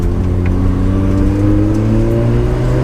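A Mazda RX-7 FD engine pulls up through the revs, a loud close droning whine with rising tones held steadily throughout, no voices.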